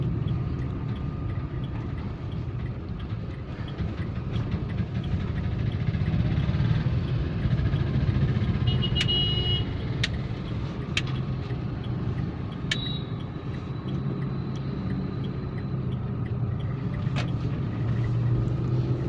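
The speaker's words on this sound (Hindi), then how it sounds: "यहाँ से टर्न कर लेते हैं गाड़ी को पहले।" A car drives along a road and turns during a driving lesson, its engine a steady low rumble with road noise throughout and a few brief high clicks or beeps partway through.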